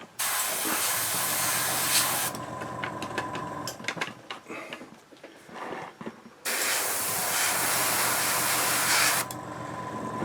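An airbrush sprays a light coat of paint onto an ICM T34/76 tank model for a Stalingrad diorama, giving a close, steady hiss in two long bursts separated by quieter clicks and handling noises.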